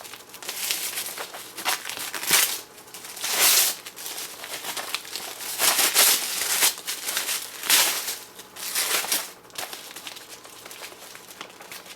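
Tightly wrapped, many-layered gift paper being crinkled and torn in repeated bursts, close and loud, with brief pauses between tugs and no talking.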